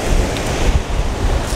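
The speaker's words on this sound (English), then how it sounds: "the waves are breaking" Waves breaking on a beach beside a large rock, a loud close wash of surf with low thumps and roaring spray mixed with wind noise on the microphone, continuous for the whole moment.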